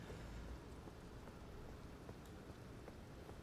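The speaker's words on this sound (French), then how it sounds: "Ou pas, il pleut toujours." Steady rain falls in the video game Elden Ring, a soft continuous hiss of drops with a few faint rumbles, heard alone at low level throughout.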